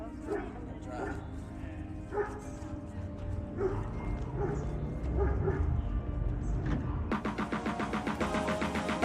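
Several dogs bark and yip intermittently in the distance at a Black Hills campsite, with some whimpering, while faint background noise continues.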